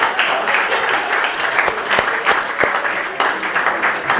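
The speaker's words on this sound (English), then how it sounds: "Give a round of applause!" Audience applause at a Broadway Comedy Club show, a dense, steady wash of clapping from a crowd that carries on without a break.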